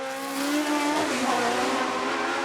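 A Brabham BT44 Formula One race car passes at speed on the Festival of Speed hill climb, its engine note loud and steady, pitch dropping slightly as it goes by.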